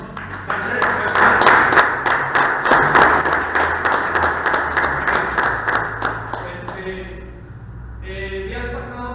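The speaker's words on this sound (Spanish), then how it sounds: "Un aplauso al Señor." Congregation applauding in a church, a dense burst of rhythmic hand claps that is loud and close, lasting several seconds before it thins out and fades, with faint voices beneath.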